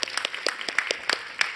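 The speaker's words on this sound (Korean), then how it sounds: "우리 하나님께 감사의 박수를 드리겠습니다." A church congregation at a December 24 evening service gives a brief burst of applause, with separate claps from a modest group sounding close and uneven over a second and a half.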